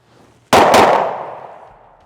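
Luger P08 pistol firing, one loud close report with a quick second crack and a ringing decay, fewer shots than the three loaded rounds.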